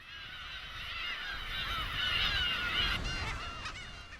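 Large breeding flock of black-tailed gulls on Hongdo island, Korea, crying all at once, overlapping mewing calls swelling louder midway, then thinning slightly toward the end.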